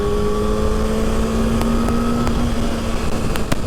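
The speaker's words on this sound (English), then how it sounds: "That's what I like about a motorcycle. You just pull the throttle and you're gone." Honda CBR 600RR motorcycle under way with the throttle pulled, a steady droning engine tone with faint gear whine and wind rush, close and continuous without talk.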